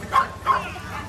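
A dog gives two quick, high yips close by, followed by a fainter third, in a brief burst.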